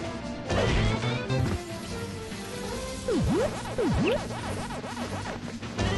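Loud crashes and smashes ring out in the Ice World level of the Pac-Man World 2 video game, with sweeping tonal effects and heavy impacts repeating over game music.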